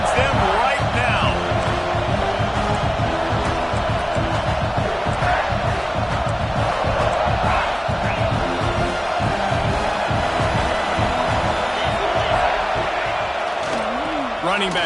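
Stadium crowd at a football game roaring in a steady, dense wash of cheers and shouts to back the defense, with an announcer talking over it.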